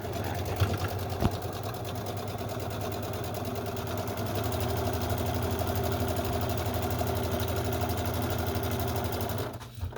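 A sewing machine runs a long continuous stitch down the side seam of a Dodgers-themed whippersnapper, a steady fast mechanical whir close up, stopping abruptly near the end.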